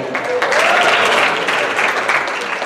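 A school assembly crowd breaks into brisk applause, loud and dense, with many hands clapping at once and a few voices mixed in over a short burst.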